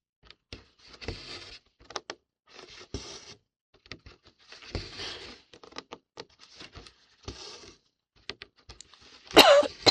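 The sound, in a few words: person coughing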